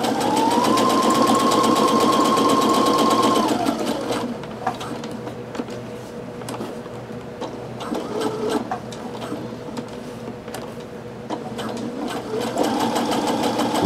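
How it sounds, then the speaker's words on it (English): A Brother SE625 sewing and embroidery machine stitches through four layers of fabric: a loud, steady motor whir for several seconds, then a quieter stretch with small mechanical ticks, before the whirring picks back up near the end. "let's do 4 layers and see how well this will sew with 4 layers"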